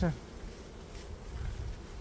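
A steady, low buzzing hum of honeybees at an apiary, fairly close and continuous throughout, with no talking.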